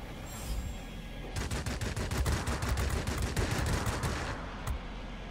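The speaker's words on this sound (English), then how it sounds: "aircraft that was shooting at us." Rapid machine-gun bursts from an enemy aircraft in World of Warplanes rattle out in a sustained string of shots that lasts several seconds over steady engine drone, then cut off.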